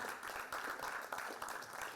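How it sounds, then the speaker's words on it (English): Conference audience in Bengaluru applauding a speaker, a steady wash of many hands clapping heard from a distance at low level, without pauses. "Please now applause for Sanjay"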